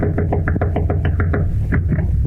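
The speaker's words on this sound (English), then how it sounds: "There's no light coming from under the door, but that doesn't mean they're out. So you knock again." Knuckles rap on an apartment door in an old 1955 radio drama, a close series of firm knocks in quick succession, then a pause and two more knocks, with no speech over them.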